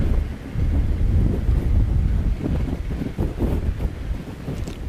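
Strong gusts buffet an outdoor microphone at Christchurch Airport, producing a continuous heavy low rumble that swells and dips for several seconds with no voices.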